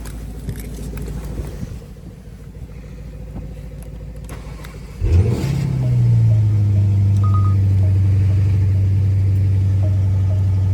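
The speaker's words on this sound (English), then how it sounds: "We'll start this one up next." A Porsche Cayenne Turbo GT with ceramic brakes fires up: a sharp starter catch and bark, then a loud, steady, deep idle holding close by.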